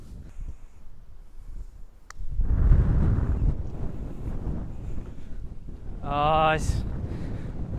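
Wind gusting across an open golf course, a steady broadband rush that swells after the first couple of seconds and stays up, with brief spoken words mixed in.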